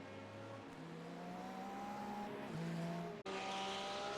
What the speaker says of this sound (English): lost all rear grip with the loss of his wing, and this causes him to spin out and hit the wall